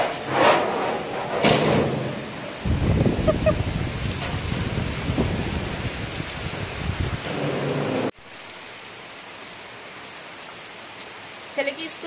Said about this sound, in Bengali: দেখো কি জোরে বৃষ্টি শুরু হয়ে গেল, ঝমঝম করে বৃষ্টি পড়ছে।